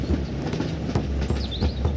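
A miniature train reverses along its track with a steady rolling rumble, rhythmic clicks from the wheels and brief high squeals, close and fairly loud.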